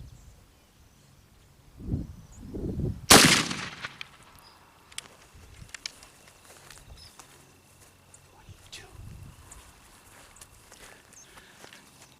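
A muzzleloading gun fired with a doubled charge of 3F black powder: one sharp, loud report, with low thumps just before it and a quieter stretch of rustling and small movement sounds afterward.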